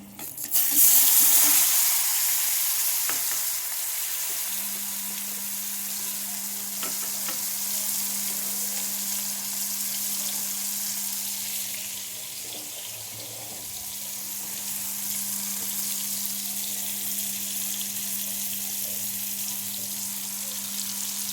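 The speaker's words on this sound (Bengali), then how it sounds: "তো আমি এর মধ্যে ঝিঙেটা দিয়ে দিচ্ছি।" Ridge gourd drops into hot oil in a pan with a loud burst of sizzling, which settles into a steady, continuous frying hiss with a low hum underneath, and no one speaks.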